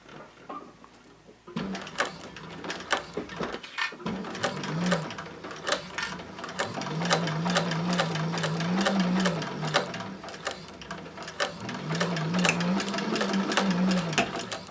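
A Techsew 4800 Pro sewing machine stitches steadily for most of the span after a short quiet start, its needle beat fast and regular with a motor hum that rises and falls in pitch, close and loud.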